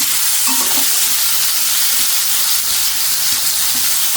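Loud, steady sizzling of teasel gourd frying in hot oil in a pan, with occasional stirring scrapes and no talking.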